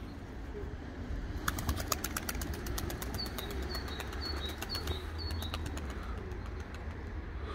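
Pedigree tumbler pigeons take off with rapid, crisp wing claps in several quick bursts, interspersed with faint chirps, heard outdoors over a soft background hiss.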